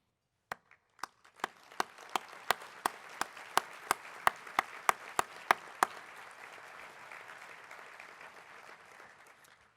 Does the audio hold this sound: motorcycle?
no